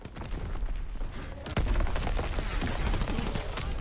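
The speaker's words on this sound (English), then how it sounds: "Incoming enemy artillery. Get to cover." Call of Duty WW2 match with dense, continuous gunfire and enemy artillery, a rapid rattling fusillade that jumps louder partway through and stays heavy and close to the end.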